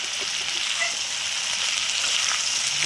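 Drumstick pieces and potato fry in very hot oil with salt and a little turmeric, producing a dense, even sizzle that stays close and fairly loud throughout, with faint stirring and no talking.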